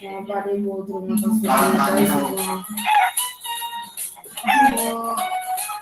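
Chickens clucking and crowing, with loud drawn-out crows and busy clucks that overlap close by and fill the whole stretch.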